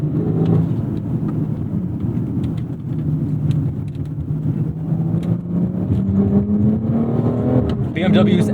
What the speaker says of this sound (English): we're gonna put the engine into sport, which should change the throttle response